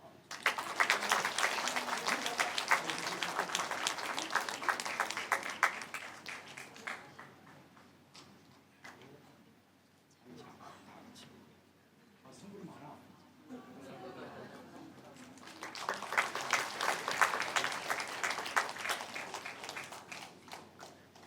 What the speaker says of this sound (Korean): 예, 축하의 박수로.